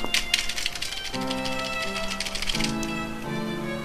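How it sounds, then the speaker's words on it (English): Rapid clattering taps of a computer keyboard being smashed while playing the game Ib, a fast irregular flurry of loud key strikes over game tones. "I'm just like smashing my keyboard right now"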